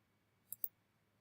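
A computer mouse gives two quick, crisp left clicks in close succession, faint and close-up against near silence.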